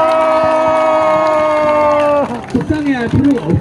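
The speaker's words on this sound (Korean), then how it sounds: "잘했으니까 박수 함성 한번 주세요" A sustained musical chord at a Hongdae street busking show cuts off, and the audience bursts into loud cheering, whoops and clapping close by.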